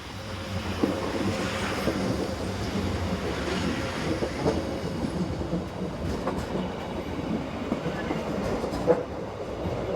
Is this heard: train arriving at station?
yes